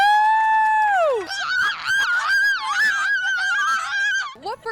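A person imitates a cuckoo bird call with a long, loud, falling voiced hoot, followed by a run of warbling, honk-like vocal calls close to the microphone.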